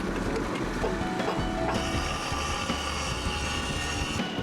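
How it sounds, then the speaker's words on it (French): An abrasive grinder works on a freshly welded railway rail joint, a dense, loud, continuous grinding roar with a harsh rasping edge and no pauses. "Le meulage achève parfaitement l'opération."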